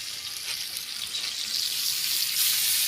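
Fish frying in hot oil Pakistani style, a bright continuous hiss and crackle of sputtering oil that gradually swells louder, heard close with no voices.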